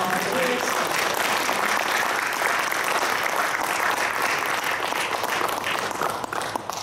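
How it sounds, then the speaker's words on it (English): Sustained applause from an audience at a school board candidates forum, steady dense clapping filling the room for several seconds without a break, tapering slightly at the end. "Please give an applause to the candidates one more time for the volunteers."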